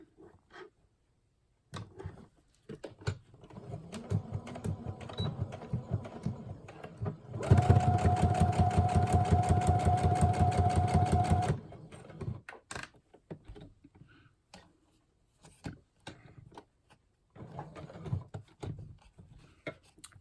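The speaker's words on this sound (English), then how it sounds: "get my sewing machine thread all in place. And we'll start down here." A sewing machine stitches a craft tag in one steady, loud burst of about four seconds, framed by quieter handling clicks and rustles before and after.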